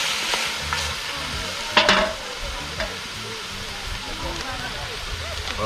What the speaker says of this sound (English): I give it a stir